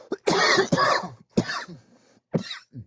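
A person coughs several times in quick bursts, close and fairly loud, with short pauses between.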